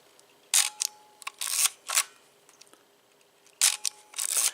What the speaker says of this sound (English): So let's see what the shutter sounds like on it.